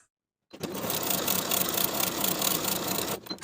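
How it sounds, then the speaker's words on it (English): A sewing machine runs steadily along a seam in linen shorts, a close, even, fast whirring hum that starts after a short silence and stops abruptly about three seconds later. "Sew with a 5/8 inch seam allowance"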